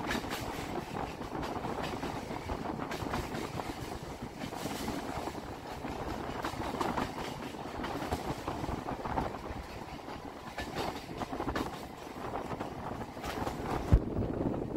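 A Namkhana local train runs along the main line toward Baruipur, giving a steady broadband rumble and rattle with wind noise throughout, continuous and fairly loud, with no voices.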